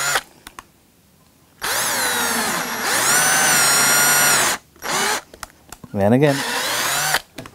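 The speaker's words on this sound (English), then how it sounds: "instead of a center point, I'm going to a standard twist drill now." A standard twist drill bores into an electric guitar body in a workshop, two loud sustained whines with a brief pause between, then shorter bursts as the bit stops and starts; someone speaks briefly.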